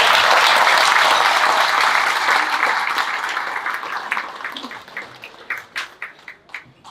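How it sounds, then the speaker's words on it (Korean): Applause from the audience at a national development symposium, loud and dense at first, then thinning out into scattered individual claps that fade away over several seconds. "여러분, 우리 모두 우리 자신의 성취를 위해서 크게 한번 박수를 한번 쳐주시기 바랍니다"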